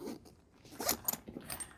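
A PU coated zipper on a backpack is pulled open in a few quick, raspy zips of varying length, close and fairly quiet, with short pauses between pulls.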